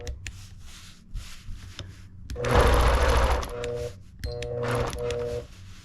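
A longarm quilting machine stitches a quilt in a maze-like pattern, its motor humming and buzzing in bursts that swell louder mid-clip, with a steady mechanical whir and brief pauses between runs.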